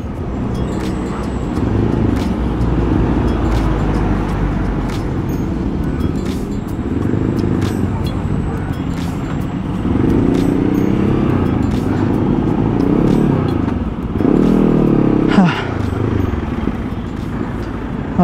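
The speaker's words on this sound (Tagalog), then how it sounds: "Grabe ang traffic na." Heavy, congested road traffic with a steady loud wash of car engines and motorcycles passing close, several engine swells rising and fading over the span, with no talk.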